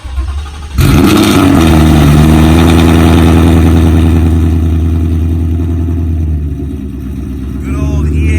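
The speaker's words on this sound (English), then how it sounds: "a lot of people tell me they love the cold start, so let's give you that" A car running on E85 fuel fires up from cold with a sudden loud catch, then settles into a steady, rumbling, lumpy idle that stays heavy throughout, picking up slightly again near the end.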